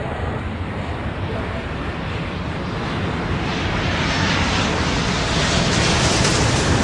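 Jet airliner taking off in the airport simulation game Airport Madness, a steady broadband engine roar that builds gradually in loudness over several seconds, with no talking.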